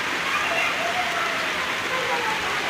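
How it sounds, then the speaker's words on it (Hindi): Heavy rain falls hard and steadily in Uttar Pradesh, a loud dense continuous hiss of drops on surfaces with no pauses, close by and filling the whole moment. "यहाँ पे बारिश हो रही है और बहुत ज़ोरों शोरों से बारिश हो रही है"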